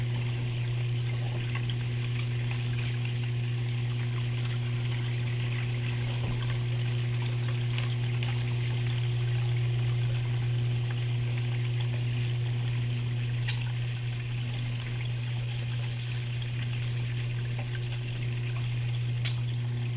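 Water runs steadily over a gold prospecting mat washing beach sand, a continuous trickling wash with a strong, unchanging low hum beneath it and no talking.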